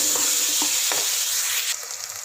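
Tomatoes for prawn biryani sizzle in a hot pan, a steady close frying hiss with a few soft stirring scrapes.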